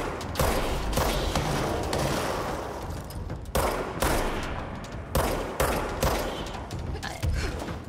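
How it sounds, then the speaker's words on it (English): Machine guns in the shooter game Control fire in loud, sustained automatic bursts, several rattling volleys separated by short breaks, with mechanical clatter layered in. "we have to deal with those machine guns"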